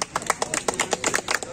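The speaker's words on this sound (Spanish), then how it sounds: "Bien, aplauso." A short burst of applause, a few hands clapping in a quick, uneven patter at moderate volume.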